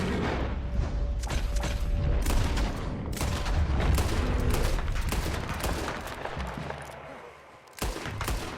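Steady gunfire in Red Dead Redemption 2, dense overlapping shots and rumbling booms forming a continuous loud barrage that eases off near the end, with occasional voices among the shooting.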